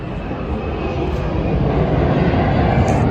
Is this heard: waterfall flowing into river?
no